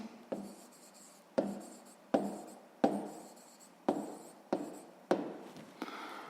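Pen writing on paper during a sixth-grade maths exercise, about eight quick close scratchy strokes in an irregular rhythm, quiet and isolated, with no voices.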